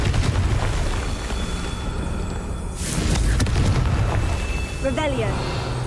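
In Hogwarts Legacy a Confringo fire spell bursts with a sudden booming blast mid-clip amid game effects and ambience, followed by shorter magical chirps.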